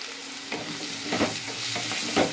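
Onion frying with turmeric in a pan sizzles steadily, and a spoon scrapes and stirs through it in several distinct strokes nearby.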